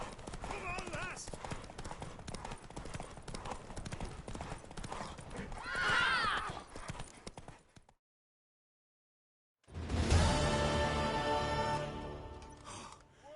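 Galloping hooves drum in a quick, steady rhythm during a horse race in The Witcher 3, with a horse whinnying and people talking over it, then silence before galloping returns.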